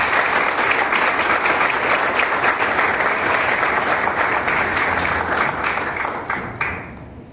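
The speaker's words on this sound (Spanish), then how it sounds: "Recibamos con un fuerte aplauso" Sustained, loud applause from an audience at an academic lecture on Caribbean migration greets a speaker, dense steady clapping that thins and fades out near the end.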